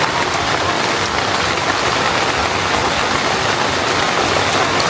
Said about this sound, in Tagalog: Ayan, dumuulan talaga. Lumakas lalo.